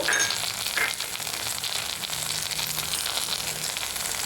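Onions and drumstick pieces fry in a pan for drumstick dal, a steady close sizzle with crackling spatter throughout, no voices.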